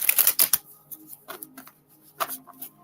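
Tarot cards are shuffled by hand in a few quick riffling bursts, a crisp flutter of card edges at the start followed by softer, scattered taps and slides, close and quiet.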